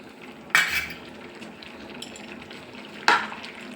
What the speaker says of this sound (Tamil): நல்லா மிக்ஸ் பண்ணிடலாம்.